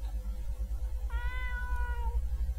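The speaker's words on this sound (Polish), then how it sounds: "Cii, kotek, Cii, nie teraz." A house cat gives a single drawn-out meow of about a second, faint in the room over a steady low hum.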